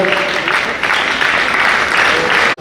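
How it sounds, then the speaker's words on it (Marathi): A crowd applauds steadily with loud, sustained clapping that stops abruptly at the end, welcoming guests at a literary seminar in Apegaon. "आपण सर्वांनी जोरदार टाळ्या पाहुण्यांचं स्वागत करूया"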